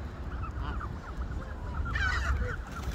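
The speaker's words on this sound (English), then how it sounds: "It's a lot of geese." A large flock of geese gathers outside downtown Chicago, with scattered honks and calls rising over a steady outdoor rumble, the honking mostly faint and distant.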